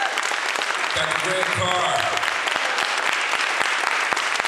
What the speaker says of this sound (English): can we give another warm round of applause